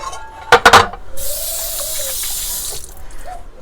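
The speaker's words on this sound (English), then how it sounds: "And of course I have to wash these with soap and water and all that." Glass Pyrex baking pans being washed with soap and water at a kitchen sink: a few clattering knocks of glass, then a steady rush of running tap water close by.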